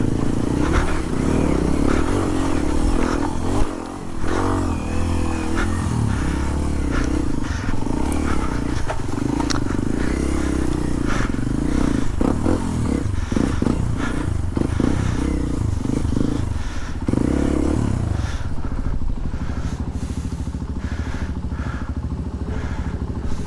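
Dirt motorcycle riding a rocky, sandy trail in Aringay, La Union, its engine droning loudly and steadily throughout with revving surges, scraping and clattering over stones.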